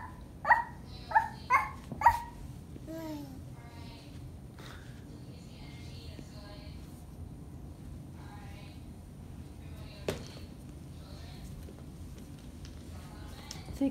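A young child imitates a dog, giving four quick, high, yappy barks in a row, then a few softer yips and a whimpering sound, with a single short bark later on in an otherwise quiet room.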